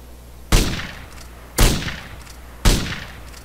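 Three loud, sharp gunshots ring out in the survival video game DayZ at roughly one-second intervals, each a hard crack followed by a short echoing decay, with no talking.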